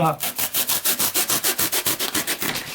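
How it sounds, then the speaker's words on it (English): Cured expanding spray foam being trimmed with a bread knife or hacksaw blade, a fast regular back-and-forth sawing rasp of about a dozen close, loud strokes. "So I'm going to trim this while we wait for this to finish curing"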